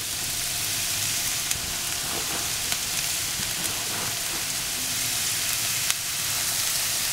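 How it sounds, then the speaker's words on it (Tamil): Carrot going into a hot frying pan for veg kothu parotta, giving a bright, steady hiss of frying with occasional small ticks and scrapes, close and continuous without talk. "இந்த கேரட்டை இப்போ போட்டு"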